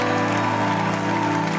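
Church congregation applauding steadily, a dense, continuous wash of clapping with organ or keyboard chords sustained underneath, no pause for the whole moment.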